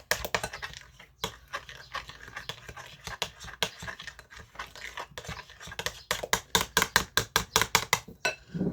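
Pasta salad being stirred in a bowl, with a steady run of scraping, clattering strokes that speed up into a quick rhythmic series near the end, close and fairly loud with no talking.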